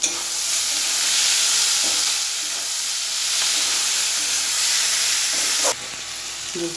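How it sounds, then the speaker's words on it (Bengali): Onions fry in oil for a chicken kosha curry, giving a constant loud sizzle with scraping stirs. The sound drops noticeably near the end. "পেঁয়াজটা লাল লাল করে ভাজছে"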